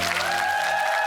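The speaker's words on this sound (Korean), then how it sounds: "박수 한번 부탁드릴게요" A studio audience on a Korean TV quiz show claps steadily, a dense, even burst of applause with a faint sustained tone underneath.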